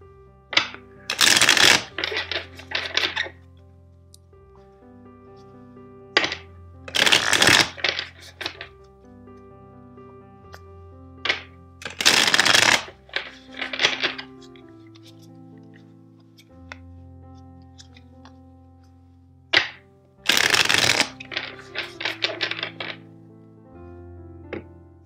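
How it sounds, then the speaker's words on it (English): A tarot deck is riffle-shuffled several times in close bursts, crisp fluttering riffles separated by pauses, with soft background music throughout. "let's shuffle the deck 4 times for you"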